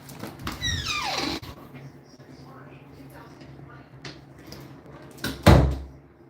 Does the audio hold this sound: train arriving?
no